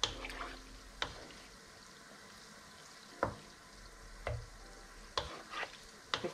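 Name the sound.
frying and stirring food in hot oil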